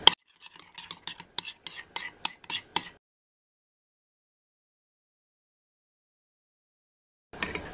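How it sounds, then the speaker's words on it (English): A homemade skin remedy mixture is stirred in a container, giving a quick run of about a dozen light scraping clicks over three seconds, then silence until a brief rustle at the end. "Let's just go ahead and give that a mix"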